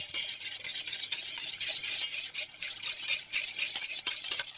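A whisk stirring a sauce in a bowl as olive oil is added, a soft, steady scraping and swishing that repeats continuously, close and fairly quiet, with no talking.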